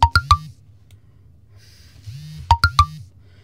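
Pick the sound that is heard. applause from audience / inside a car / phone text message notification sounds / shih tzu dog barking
phone text message notification sounds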